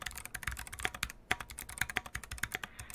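Rapid typing on a loud, hollow-sounding mechanical keyboard, with a space bar that pings like a kicked tin can amid a steady stream of crisp clacks.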